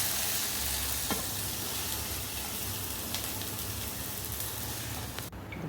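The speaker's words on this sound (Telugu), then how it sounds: "దాని బదులు ఉల్లిపాయ వేయించేస్తే కూరతో పాటు ఉడికిపోతుంది" Onions fry in hot oil for a spine gourd curry, a dense, steady close-up sizzle with a few faint stirring clicks, and no voices.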